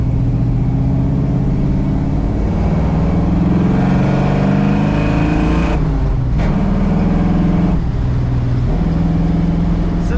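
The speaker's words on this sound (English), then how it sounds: "Good sound out of this car." A 1956 Chevrolet Bel Air Nomad with a manual gearbox accelerates on a road, its engine note climbing loud and close from inside the car, with two brief dips as gears change.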